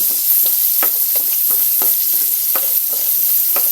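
Tofu and pork sauté in a hot pan with a loud, continuous sizzle, broken by repeated quick scraping strokes as the pieces are stirred.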